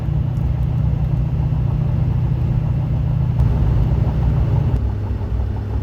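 A vehicle fitted with a converted six-speed Allison transmission decelerates with a steady low engine and drivetrain rumble, the pitch dropping noticeably near the end as it downshifts, heard from close by.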